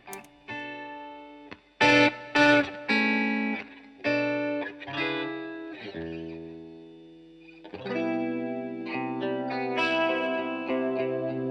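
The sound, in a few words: guitar through chorus effect pedal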